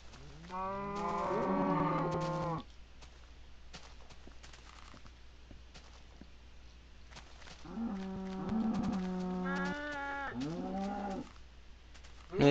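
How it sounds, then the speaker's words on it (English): Cows in the Minecraft video game low repeatedly in loud, drawn-out moos, with quieter stretches of game ambience between the two bursts of lowing. "Oh God, all my cows are escaping."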